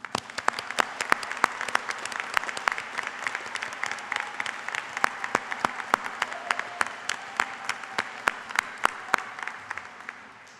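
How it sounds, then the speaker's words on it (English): An indoor commencement audience applauds newly certified graduates with sustained, even clapping from many hands, fairly distant and steady for about ten seconds. "Let's give them a round of applause."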